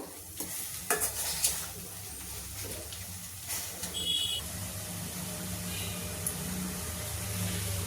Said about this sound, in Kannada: ಇದೊಂದು 5 ನಿಮಿಷ ನಾವು ಫ್ರೈ ಮಾಡಿಕೊಂಡ್ರೆ ಸಾಕು.